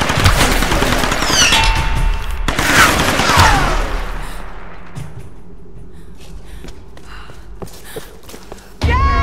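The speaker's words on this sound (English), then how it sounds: "I'm under fire!" Gunfire in the video game Tomb Raider Definitive Edition, bursts of shots and impacts up front that give way to quieter scattered thuds and taps, with a sharp burst returning at the end.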